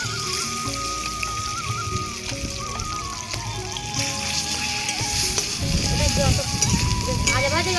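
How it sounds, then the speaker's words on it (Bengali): Yardlong bean seeds dry-roasting in a pan make a steady crackle and scrape as they are stirred, heard close and continuous, getting fuller toward the end. "শুকনো শুকনো করে আমি বটবটি কড়াইটাকে ভেজে নিয়েছি"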